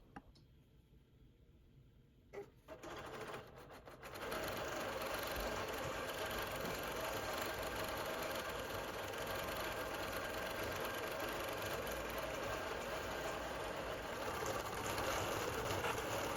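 A longarm quilting machine stitches a pebble pattern on a quilt block: a few clicks and a short start, then a steady fast mechanical whir and rattle running continuously, fairly close.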